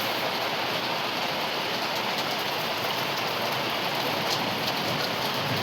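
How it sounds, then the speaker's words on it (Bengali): Rainwater runs off a roof in a loud, steady downpour, a dense unbroken wash of splashing water heard up close with no one speaking. "ওটা দিয়ে কি সুন্দর বৃষ্টির জল পড়ছে"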